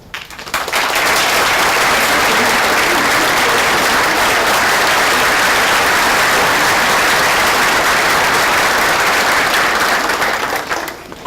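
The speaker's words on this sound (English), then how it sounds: "I ask them to please stand and for a round of applause." Sustained audience applause at a St. Francis College Charter Day ceremony, loud and dense from start to finish with a brief fade at the end.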